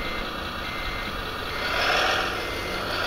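A Mercedes SK construction truck reversing, its backup beeper sounding loud and close in steady repeated tones over a low idling engine rumble.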